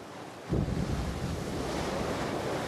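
Ocean surf rolls in as a loud, continuous wash after a short quiet start, with wind buffeting the microphone throughout.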